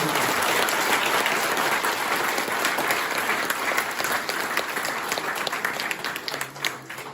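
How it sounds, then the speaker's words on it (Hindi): Loud, sustained audience applause fills a motivational speech event, steady dense clapping throughout that thins slightly near the end. "आप जोरदार तालियां बजाओ"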